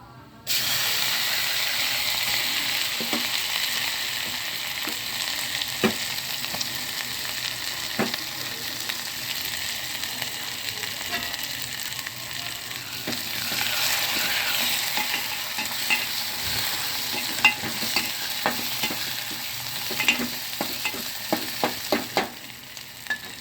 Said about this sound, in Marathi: आता हे अद्रक लसूण कांदा खोबरं कोथिंबीर ही पेस्ट आहे आता ही पेस्ट टाकत आहे